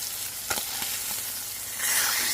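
Ground turkey searing in a hot pan gives a loud, steady sizzle with a few soft knocks from a utensil, and the hiss swells near the end.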